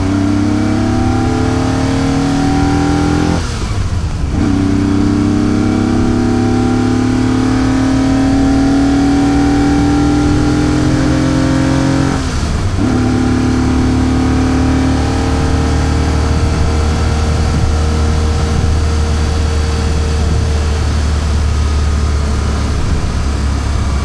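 Inside a moving Ferrari 250 GT Lusso, the three-carburetor V12 climbs loudly through the revs, with rising engine tones broken by two brief gear-change dips, then settles into a steady, throaty cruise.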